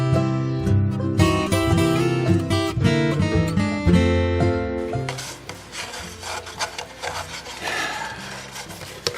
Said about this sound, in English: I just take my little finger plane and I just trim it off, and it trims pretty easily